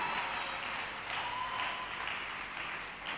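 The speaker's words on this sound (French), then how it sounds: "Acclamons bien pour le Seigneur" A church congregation applauds during a Wednesday worship service, with dense, steady clapping from many hands that fills the room and never lets up.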